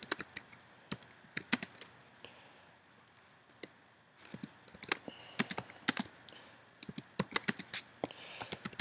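Someone types on a computer keyboard in bursts of crisp, close key clicks, with short pauses between runs of keystrokes and no talking.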